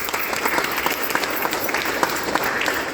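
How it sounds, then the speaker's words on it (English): Steady applause from an audience at an art exhibition opening hosted by the Irish Georgian Society in Dublin, a dense, even patter of many hands clapping throughout with no break. "I invite everybody to give a round of applause first to the IGS for hosting this"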